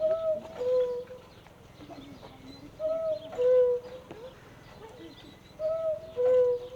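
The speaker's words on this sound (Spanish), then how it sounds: "Este es el reloj de cuco más grande del mundo. Lo construyeron hace 39 años, sale el cuco cada media hora." A cuckoo clock, the world's largest, calls in repeated two-note pairs, three times at a steady pace, against faint crowd murmur in the background, in the Black Forest.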